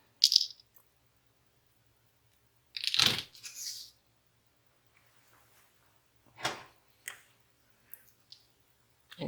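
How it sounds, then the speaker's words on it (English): Wire cutters snip the excess wires on a French beaded rose brooch, giving a few sharp, separate clicks spaced several seconds apart against near silence. "Now cut the excess wires here."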